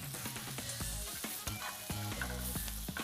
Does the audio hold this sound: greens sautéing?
yes